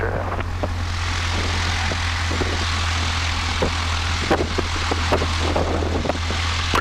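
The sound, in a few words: Piper Seminole aircraft engine while taxiing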